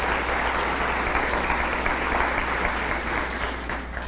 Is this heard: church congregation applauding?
yes